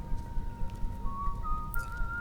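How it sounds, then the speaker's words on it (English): A character whistling in Metal Gear Solid 4, a faint thin steady tone held and then sliding up in pitch, soft and distant over low background rumble. "Do you hear whistling?"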